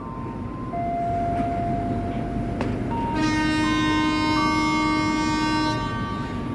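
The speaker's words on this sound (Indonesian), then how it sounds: "Jalur 5 KRL buatan Inka berangkat." An INKA-built KRL electric commuter train departs amid loud rail noise, with sustained horn-like tones sounding over the rumble as it gets underway at close range.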